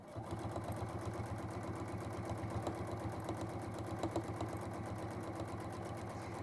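A sewing machine top-stitches fabric down onto cork, its motor humming in a quiet, even, continuous run with a fast regular needle rhythm and no talking.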